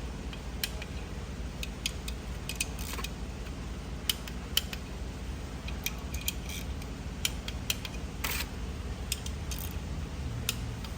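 Torque wrench tightening the valve cover bolts on a Duramax LBZ diesel engine, a steady run of small metallic ticks and clicks with a few sharper snaps, close and alone over a low hum.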